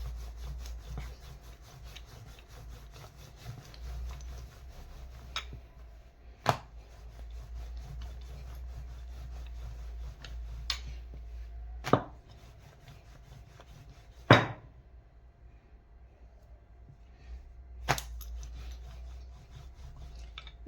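A rolling pin works mini pizza dough on a board, making a steady, soft rubbing and scraping sound in repeated back-and-forth strokes, up close and quiet. A few sharper knocks break in now and then, and no one speaks.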